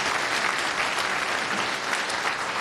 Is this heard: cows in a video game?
no